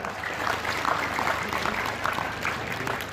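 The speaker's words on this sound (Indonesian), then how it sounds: "Tepuk tangan untuk puskesmas." Applause for a community health service at an Indonesian public gathering, a steady dense patter of many hands holding at an even level for the whole stretch with no voices rising above it.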